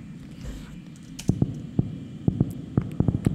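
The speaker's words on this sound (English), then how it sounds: "The soft knocker, this kind of percussive instrument" Soft knocker percussion in a film score, struck in quick irregular pairs like a racing heartbeat over a low sustained hum, fairly close and with no talk.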